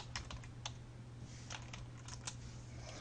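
Typing on a computer keyboard while entering product details into a web content management system: a steady run of light, quick key clicks with a few sharper taps, close and fairly quiet over a low constant hum.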